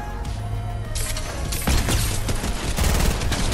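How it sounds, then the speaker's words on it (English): Charged shotgun blasts in Fortnite amid a fast exchange of gunfire, sharp loud cracks in quick irregular bursts with mechanical clicks and crashes between them. "Hopefully this charged shotgun won't let me down"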